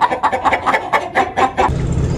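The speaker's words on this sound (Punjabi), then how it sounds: "ਹੁਣ ਆ ਮੁਰਗੀ ਵੇਖੋ" A hen clucks close by in a quick rhythmic series of about eight short clucks, then a low rumble like a passing vehicle takes over.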